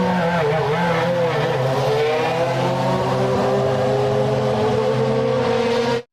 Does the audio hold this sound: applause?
no